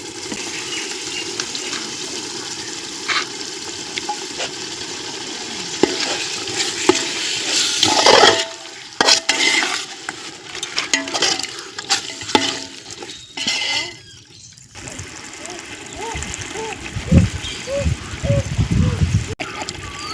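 Mutton biryani masala sizzles and fries in oil in a pot over a village wood fire, with stirring and splattering bursts rising and falling throughout.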